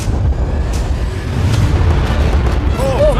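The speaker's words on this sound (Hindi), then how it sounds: "फायरवर्क्स को फायर करो।" Fireworks are fired at a yacht, making loud, continuous booming rumbles with sharp bursts, and a voice cries out near the end.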